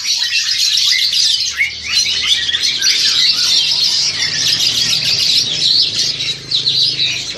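A crested myna calls close by in a busy run of bright chirps and whistles that continues for the whole stretch over faint low background noise.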